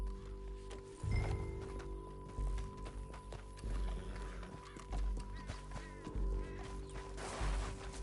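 Horse hooves galloping in the video game Red Dead Redemption 2, a rhythmic run of heavy thuds repeating roughly every second, fairly faint under a low ambient game soundscape.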